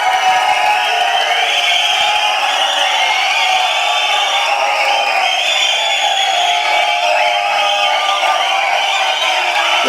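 A large crowd at a film audio and trailer launch event roars and cheers continuously to welcome the hero Soori, a dense, loud wall of shouting and whooping with no pauses.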